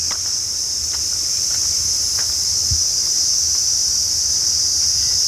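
Crickets chirp loudly and continuously at night in a quiet, overgrown area with fallen, broken trees, a steady high shrill drone filling the whole stretch, with a few faint clicks beneath and no one talking.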